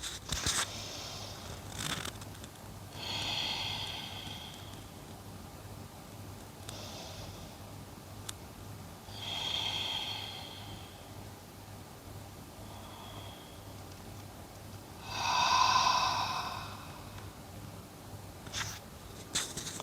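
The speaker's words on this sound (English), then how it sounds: "let me demonstrate a deep breath" A slow, deep breath drawn in and let out through the nose, repeated three times as soft, close breathy swells with long quiet gaps between them in an otherwise still room.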